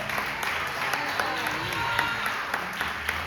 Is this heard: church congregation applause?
yes